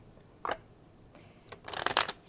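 Tarot cards riffle in a brief shuffle: a soft flick, a pause, then a quick crisp burst of cards fluttering together, close and quiet.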